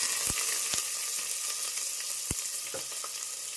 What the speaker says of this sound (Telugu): ఇప్పుడు కరివేపాకు, ఇప్పుడు కట్ చేసి పెట్టుకున్న ఎర్రగడ్డ వేసుకుందాం.